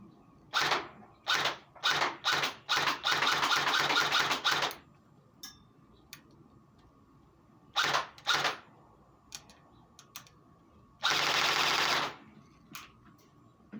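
Bursts of fire from a metal airsoft VSS replica rifle shooting a cardboard box indoors, rapid full-auto strings and single rattling shots separated by quiet gaps, close and sharp.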